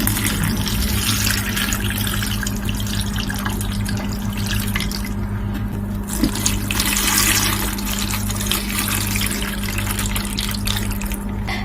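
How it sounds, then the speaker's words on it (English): Water poured from a tap or jug into a pot of cabbage rolls, a steady, close rushing stream with a faint hum underneath that runs continuously without pause. "I'm now going to go ahead and add water."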